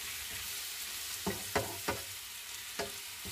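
Tomatoes, garlic and onion cook in a pan under a soft, even sizzle, with four distinct scraping stirs of a utensil cutting through.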